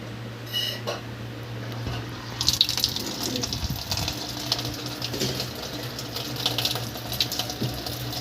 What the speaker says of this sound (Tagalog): nagkakarga na siya ng tubig